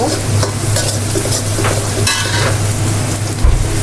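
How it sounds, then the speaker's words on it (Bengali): Spice paste is stirred and fried in a pan for a dish of loti with shrimp and dried fish, with close, continuous sizzling and rhythmic scraping strokes of a spatula. "এটা দেই সুন্দর করে মশলাটা কষায় নেব"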